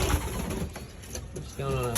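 Pigeons or doves coo softly in a backyard enclosure, low throaty calls repeating close by amid some background movement and faint voices.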